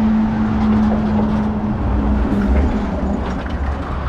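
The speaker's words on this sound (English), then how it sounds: "Although the traffic is constant," Light but constant road traffic on a main A road through a Kent village, a steady broadband wash of passing vehicles with a low engine hum, heard close and continuous.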